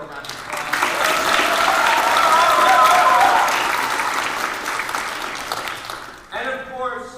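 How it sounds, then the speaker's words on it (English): Warm, steady applause rises from a children's theatre audience at a King Arthur's Quest performance, honouring a 12-year-old lighting technician; the clapping swells and holds for several seconds, then fades as a voice begins speaking. "Give her a round of applause."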